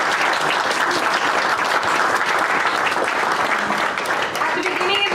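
At a public school event, an audience gives a steady, fairly loud round of applause lasting about five seconds, with faint voices under the clapping.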